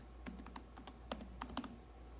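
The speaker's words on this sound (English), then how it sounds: "we're gonna type in" Quick, light clacks of typing on a computer keyboard, a short burst of separate key presses close by, fairly quiet over a steady low hum.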